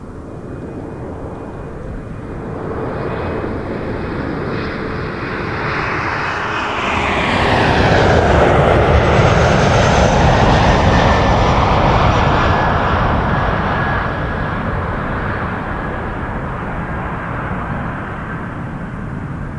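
A plane lands on runway 05 at Toronto Pearson Airport, its loud engine roar swelling and falling as it passes close, with a sweeping whine and a steady rumble carrying on afterward.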